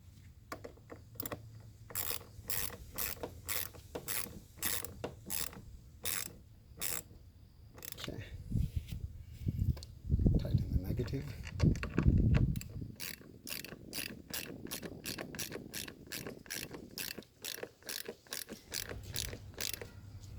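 A ratchet tightens the battery bracket on a Toyota Land Cruiser 200 Series, rapid repeated clicks in bursts with brief pauses and a louder mechanical stretch midway, close by and without voices.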